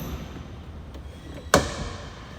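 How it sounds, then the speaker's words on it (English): A door on the windshield section of a 2022 Pursuit DC 246 dual console boat shuts with a single sharp clack midway, set against faint steady background noise. "and then you have your door closed"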